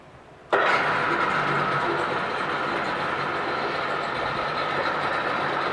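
A 2005 Mercury 50hp two-stroke tiller outboard motor catches with a sudden start and settles straight into a loud, steady, raspy idle close by.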